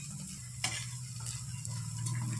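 Banana flower dhoka, spiced lentil cakes, fry in a pan with a steady low sizzle, broken by a few sharp taps of a utensil against the pan.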